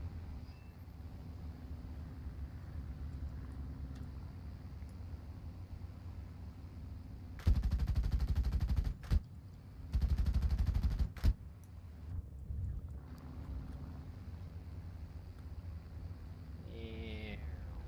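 Enemy gunfire in the War Thunder video game comes as two loud sustained bursts of rapid fire over a steady engine drone, with a few isolated shots between and after.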